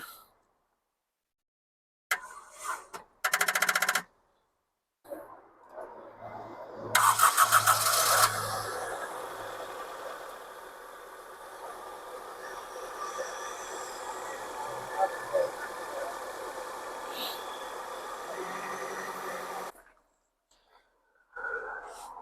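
A rough used car at an auction, low on coolant with its engine light flashing: a few bursts of starter cranking separated by silence, then the engine catches and idles steadily at moderate volume before cutting off, with faint low voices.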